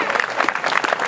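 Dense audience applause fills a short stretch at an awards event for Leadership Morgan Hill Excellence. Many hands clap together in an even, close, continuous wash.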